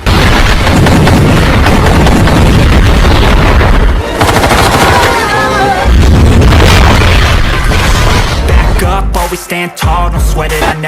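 Loud, continuous action-movie sound from The Expendables with heavy booms and rapid gunfire-like bursts as a helicopter is hit by a missile, a large blast near the end, dense and close throughout.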